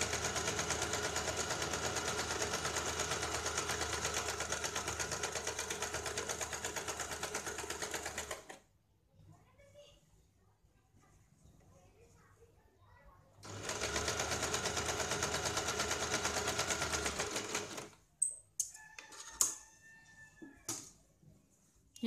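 A sewing machine runs a line of stitching along the edge of a square-neck blouse, loud and close in two long unbroken bursts separated by a quiet pause, followed by a few light clicks and handling sounds.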